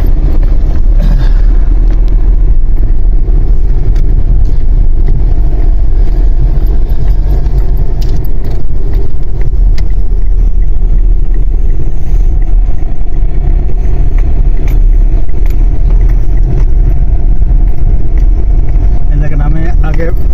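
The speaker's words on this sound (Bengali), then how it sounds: "অ্যাক্সিলারেটর চাপছি।" A car engine hums under acceleration in second gear on a rough road, a steady mid-pitched drone that runs throughout, close and loud, while people talk over it.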